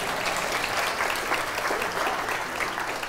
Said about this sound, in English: Another round of applause, please, gentlemen.